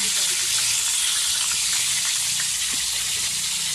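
Continuous loud sizzling and crackling of trevally fish frying in hot oil, close up, with a faint voice murmuring underneath.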